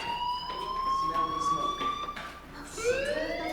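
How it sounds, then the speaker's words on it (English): A fire alarm in the video game Life is Strange whines steadily at a high pitch, with a second rising tone near the end, under a muffled background hum. "do you hear that fire alarm?"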